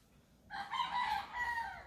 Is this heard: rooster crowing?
yes